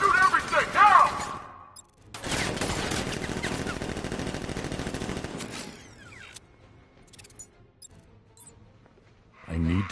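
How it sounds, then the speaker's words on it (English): Rapid automatic gunfire from militia fighters in Batman Arkham Knight bursts in dense, loud volleys that rattle on for several seconds before thinning out, with a voice shouting over the shooting. "Open fire! Shoot everything!"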